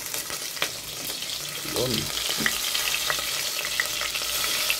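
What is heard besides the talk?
garlic, chili and ginger sautéing in a pan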